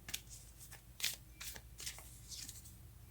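Tarot cards are shuffled by hand in a run of quick, crisp riffles and soft slaps, close and quiet, with no speech over them.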